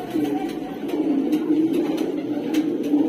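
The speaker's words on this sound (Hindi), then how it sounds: "और ये देखो एक मद्रासी कबूतर" A Madrasi pigeon with antic eyes in a loft coos in a low, steady, continuous murmur, fairly close and with no talking over it.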